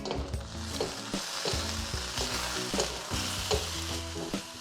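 Loud sizzling of beef stir-frying in a hot wok with rhythmic metal scraping and tossing strokes repeating roughly every half second.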